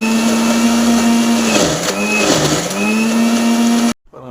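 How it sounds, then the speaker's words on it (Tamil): A mixer grinder grinds sautéed ridge gourd, radish and tamarind into a paste, a loud steady motor whine with shifting pitch as the load churns, cutting off abruptly near the end. "இப்போ அந்த மிக்சியில் போட்டு கோவப்பாக அரைச்சி எடுத்துடலாம்."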